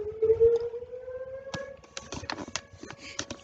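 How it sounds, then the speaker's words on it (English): A town siren wails with a steady rising tone, then cuts into irregular sharp bangs and clatter nearby. "When I get here, they sound these sirens."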